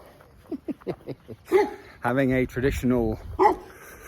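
Dogs bark at close range on a property in Windhoek, Namibia, a few quick yips followed by longer, louder barks and whines, mixed with a man's speech.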